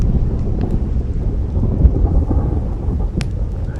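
Thunder during a thunderstorm rumbles as a loud, continuous low roll, close and heavy, with wind buffeting the microphone and a faint sharper crack near the end.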